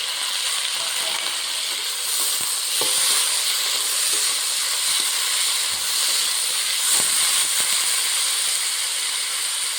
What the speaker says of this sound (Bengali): আলুর সঙ্গে পেঁয়াজ রসুনের মশলাটা ভাজা হয়ে যাবে।